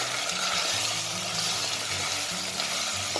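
Goat meat fries in hot oil in a pan, giving a continuous loud sizzle with a soft stirring scrape underneath.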